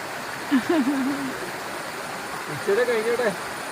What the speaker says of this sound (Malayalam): നമ്മൾ നോക്കിയ വെള്ളച്ചാട്ടം കാണാൻ വന്നേക്കുവാണ്